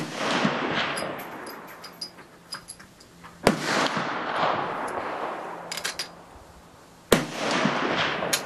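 Japanese Type 99 Arisaka rifle fired outdoors at a range, with three sharp, loud gunshots spaced a few seconds apart, each ringing off into a long wash of echo and wind.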